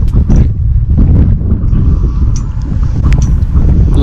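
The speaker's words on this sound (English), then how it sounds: "The wind sometimes would come in gusts." Strong gusts of wind buffet the microphone on an exposed mountain stairway, a loud, continuous low roar that swells and eases throughout.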